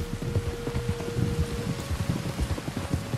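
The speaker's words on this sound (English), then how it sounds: "There's rain on the wind." Rain in the Red Dead Redemption 2 video game, a steady patter of drops falling on surfaces, fairly close and continuous with no voices.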